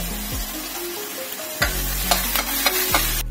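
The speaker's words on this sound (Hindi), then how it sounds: "इसमें डालेंगे हम प्याज और इसे अच्छे से हम सोटे करेंगे" Onions with curry leaves, hing and dried red chillies sauté in hot oil for khatta moong dal, a steady sizzle punctuated by several spoon scrapes, with a sustained tonal hum in the background.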